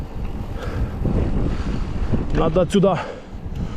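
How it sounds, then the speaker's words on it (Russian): Cold wind buffets the microphone on an exposed mountain route near Yalta in Crimea, a steady low roar throughout, with a person speaking briefly over the gusts. "Ох, какой ветер холоднючий."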